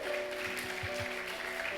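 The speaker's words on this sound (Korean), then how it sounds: "박수로 환영하겠습니다" A church congregation at a Sunday service applauds to welcome a guest; the clapping is faint and distant, a soft steady patter with a low hum and murmuring beneath.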